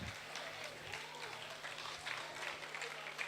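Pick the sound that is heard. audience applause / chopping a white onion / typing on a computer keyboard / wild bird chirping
audience applause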